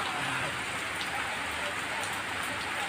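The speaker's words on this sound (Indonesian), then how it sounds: "Apalagi nih pada kondisi hujan, ya, memang tidak bisa lewat" Rain falls steadily on a mountain road at Gunung Salak, a dense, continuous hiss of drops with faint patters on nearby surfaces and no talking.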